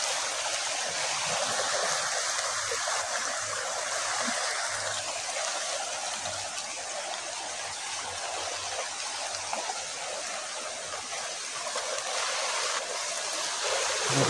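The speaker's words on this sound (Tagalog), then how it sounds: "Lakas pa ng ilog oh." A strong river current rushes in a steady, dense roar that runs unbroken through the whole stretch, with no voices over it.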